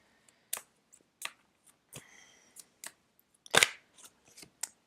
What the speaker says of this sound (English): So let's start shuffling and see what's going to come up for us in this week